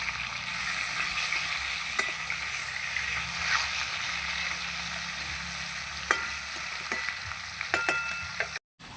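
Katla fish sizzles steadily in hot oil, a constant crackling hiss close by, with occasional clicks of a utensil turning it and no talking.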